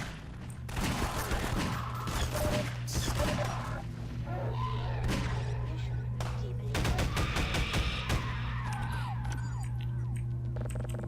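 Rapid video-game gunfire fires in bursts and single shots, loud and close, with thuds and crashes mixed in and a voice talking briefly between volleys.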